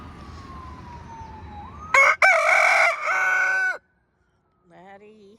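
An Americana rooster crows loudly close by, one long strained call with a broken start, followed after a pause by a softer shorter cluck-like cry.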